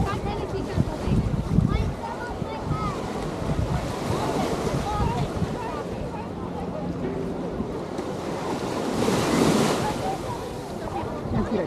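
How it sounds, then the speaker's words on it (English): Surf and wind at Waikiki Beach: a constant rushing wash of waves mixed with wind noise on the microphone, with voices and beach activity audible underneath. "Live off Waikiki Beach."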